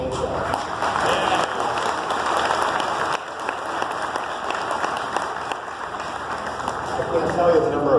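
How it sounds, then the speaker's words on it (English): A crowd gives sustained applause for Chuck and the team behind a Corvette paint show, a thick, continuous wash of clapping that swells slightly near the end, with voices mixed in. "the round of applause really should go to Chuck and the team who brought the paint show"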